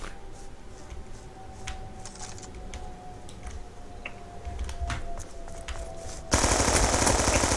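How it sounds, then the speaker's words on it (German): Rapid automatic PDW gunfire in a video game: a steady stream of clipped shots, then a louder, denser burst near the end. "Schieß nie No-Scope mit der PDW, Alter."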